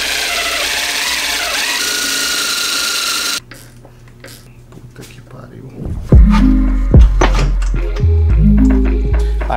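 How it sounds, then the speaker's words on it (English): A power drill whines continuously for a few seconds while drilling into a suspension bushing on a BMW E36, then stops; after a quieter pause, a lower grinding motor starts and stops in short bursts, close by. "So what I'm gonna do is I'm gonna drill into it and then put a self-tapper."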